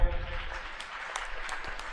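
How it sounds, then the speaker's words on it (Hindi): An audience applauds at the inauguration ceremony of a skill centre in Kaithal, a steady wash of clapping that holds at an even level throughout the short stretch, with no voices over it. "सभी तालियां बजाएं कृपया।"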